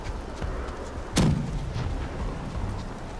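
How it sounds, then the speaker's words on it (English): Ship cannon firing in the naval game Blackwake, a single deep boom that stands out briefly over a steady background rumble of wind and sea, fairly near. "They give us port side cannons."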